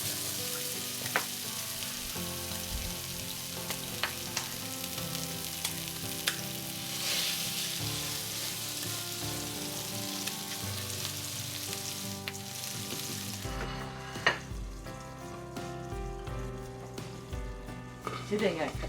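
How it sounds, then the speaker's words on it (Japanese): Food frying in a frying pan, a constant close sizzle and crackle with occasional stirring and utensil taps, running steadily throughout while a voice talks at times. "フライパンに入れますね。"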